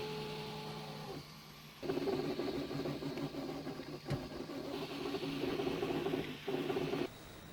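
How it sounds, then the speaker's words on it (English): Steady mechanical whirring and ratcheting from a 3D printer running continuously, with a brief drop around a second in and a sharp click midway. "Let's fire up the 3D printer and start printing the casing."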